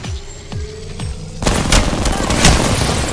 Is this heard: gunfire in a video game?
yes